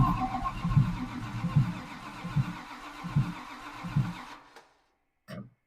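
A Slant 6 engine in a Plymouth Duster cranks over in a steady rhythmic chug of about five pulses, the starter labouring without the engine catching, then stops abruptly before a brief clunk.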